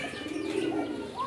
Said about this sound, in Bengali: এখানে আমরা আরেক জোড়া কবুতর দেখতেছি, এটি ফুল হোয়াইট আর এটি হচ্ছে চুইনা কবুতর